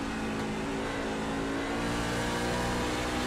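A race truck engine on Richmond Raceway in the iRacing game, held hard on the throttle with a steady, dense, high-pitched roar that stays loud and continuous throughout.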